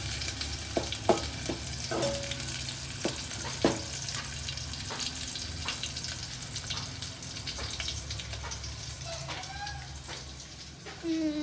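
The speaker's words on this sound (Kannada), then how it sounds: "ಉಳ್ಳಾಗಡ್ಡಿನ ಒಗ್ಗರಣೆ ಹಾಕ್ಕೊತ ಇದ್ದೀವಿ." Onion tempering for egg curry sizzles and fries in a pan, a constant crackling hiss with scattered clinks and scrapes of stirring, close by, with faint voices in the background.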